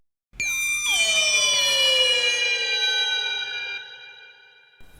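Electronic sound effects from the Intellivision version of Donkey Kong: a sustained, bright synthesized tone with many stacked harmonics that slowly falls and fades out over several seconds, with no voices.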